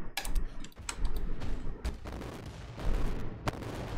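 Titan weapons in the Adeptus Titanicus: Dominus strategy game fire in rapid bursts of sharp cracking blasts with booming low impacts, a dense volley lasting a few seconds.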